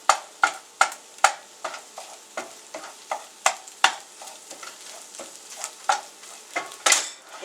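A spatula stirs and scrapes egg sizzling in a hot pan for shrimp fried rice, with about twenty sharp, irregular clicks and scrapes against a soft, steady frying hiss.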